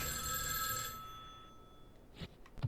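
Telephone ringing in the horror video game Spirit Hunter NG: a steady electronic ring sounds alone, then stops, and faint thumps follow near the end.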